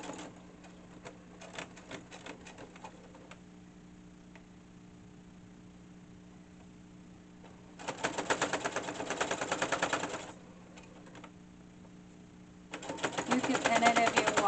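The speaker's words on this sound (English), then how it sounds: "I'm gonna back stitch that" A sewing machine back stitching the rolled, tucked corner of a hanging dish towel runs in two bursts of rapid, steady stitching, loud and close, with a quieter hum and a voice talking in between.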